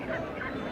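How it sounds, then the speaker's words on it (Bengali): Belgian ducks at a busy duck market give a brief, close, honking quack lasting under a second with no talk over it. "দেখতে পাচ্ছেন বেলজিং হাঁস"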